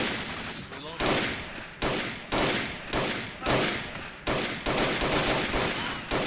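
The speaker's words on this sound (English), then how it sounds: "That helo's active firing on our position." Sustained bursts of heavy automatic gunfire from a helicopter strafing a position in a war video game, loud dense volleys repeating every second or so with brief gaps between them.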